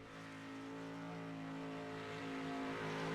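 A race car on the track during a three-lap qualifying session holds a steady, faint engine drone with a constant pitch, slowly growing a bit louder over a few seconds, with no talking.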